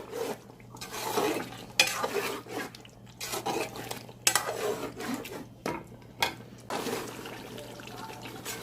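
Irregular bursts of stirring chicken biryani masala with yogurt in a pot, wet scraping and sloshing with occasional clinks of a utensil against metal, close and moderately quiet.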